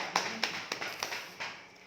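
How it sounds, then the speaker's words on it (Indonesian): A few scattered, faint handclaps from a small group at a parenting session, about five separate claps spread unevenly over two seconds against a quiet room. "Tepuk tangan dulu untuk Ibu Indra."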